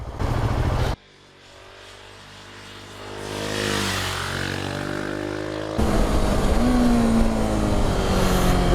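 A 2019 KTM 690 SMC R single-cylinder motorcycle engine under way, shifting from loud wind-buffeted roar to a quieter burbling drone that rises and falls in pitch, then back to loud wind noise and engine drive.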